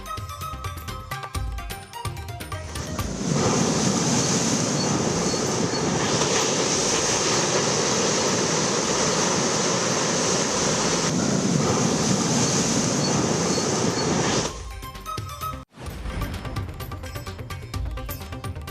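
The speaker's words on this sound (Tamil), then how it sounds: "பெஞ்சல் புயலால் கடலோர மாவட்டங்களில் தொடரும் கடல் சீற்றம்." Roaring, continuous rush of rough sea waves pounding a coastline during Cyclone Fengal, a loud sustained wash with no voices.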